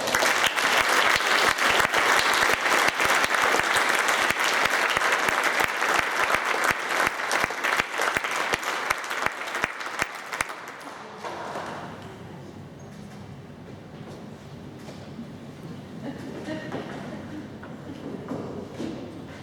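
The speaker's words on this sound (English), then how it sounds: "A warm round of applause, please, for David Brewer" A concert audience gives a warm round of applause, loud dense clapping for about ten seconds that thins out and stops, leaving quiet hall ambience.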